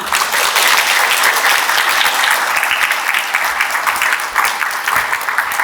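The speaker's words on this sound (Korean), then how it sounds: "여러분의 큰 박수로 시작하겠습니다." Dense, sustained applause from an audience greeting a speaker at a political lecture forum, a loud wall of many hands clapping that holds steady throughout with no voices over it.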